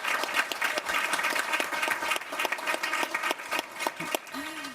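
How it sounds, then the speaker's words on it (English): Attendees at a school district board meeting applaud educators, a full room of clapping hands with distinct individual claps poking through the steady wash for several seconds, no talking over it. "can we give them a big round of applause this evening and thank them for what they do for our kids?"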